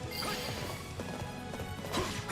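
Horse hooves galloping in the video game Fire Emblem Three Hopes, a busy run of clip-clop beats blended with clashing battle effects and game music throughout.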